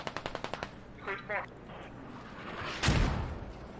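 A machine gun rattles off a rapid burst of shots in a multiplayer war video game match, followed by a single loud blast, with an excited commentator talking over the battle.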